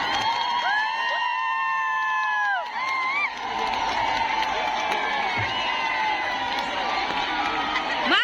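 A welcoming crowd at a public ceremony claps and ululates, with high warbling trills rising above steady applause and cheering throughout, fairly loud and sustained.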